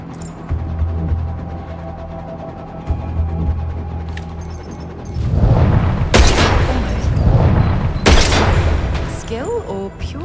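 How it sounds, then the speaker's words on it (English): Gunshots fired at a target in the video game 007 First Light: after a quieter stretch, several loud, booming shots ring out a couple of seconds apart, each with a trailing echo over low game ambience. "Bond, pick up the gun and hit the target."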